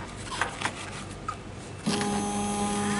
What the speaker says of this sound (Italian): la stampante carica e la carta